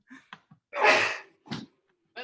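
A single sharp sneeze bursts out in the middle, preceded by a couple of quick breaths and followed by a softer exhale, all fairly faint and close, over a quiet video call.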